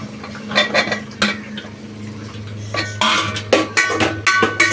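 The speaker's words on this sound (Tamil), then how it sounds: "இப்போ கட் பண்ணி வச்சிருந்த காயை இது உள்ள போட்டு வதக்கிக்கலாம்" Cut vegetables for sambar being stirred and sautéed in a pot, with repeated metal scrapes and clanks of a spoon against the pot over a low steady hum, close and moderately loud.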